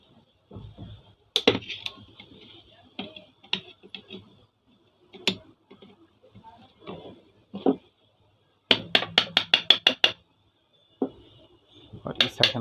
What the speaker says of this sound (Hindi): और इस साइड हम थोड़ा हैमर से ठोक लेंगे।